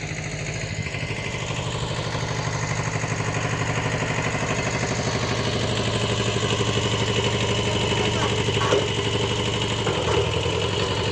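Kubota B5001 compact tractor tilling soil for garlic and onion beds, its diesel engine giving a steady, close, rumbling drone with an even pulse that holds unbroken throughout.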